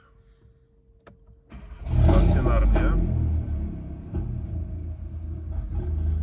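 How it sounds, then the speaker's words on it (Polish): A tuned VW Golf 8 R 2.0 TSI engine cranks and catches with a loud roar, then settles into a steady rumbling idle, recorded up close. Someone speaks briefly. "tak odpalimy sobie może samochód tutaj"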